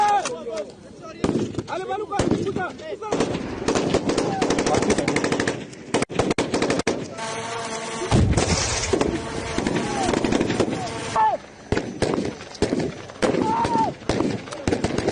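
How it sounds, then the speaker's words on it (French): Rapid bursts of machine-gun and rifle fire during a Congolese army (FARDC) firing demonstration and field maneuvers in Ituri, cracking loudly and almost continuously through the whole stretch, with voices faintly mixed in. "aux manœuvres et démonstrations de tir dans le théâtre des opérations."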